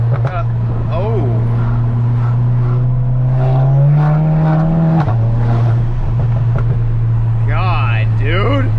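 A big-turbo VW GTI engine drones steadily at high load, its pitch climbing as it accelerates before dropping sharply at a shift, then holding again, with people talking over the engine throughout.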